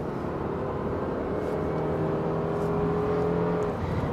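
A 2024 Subaru Impreza Sport hatchback with a 2-liter engine accelerating, a steady in-cabin drone with a rising engine tone and road rumble beneath it.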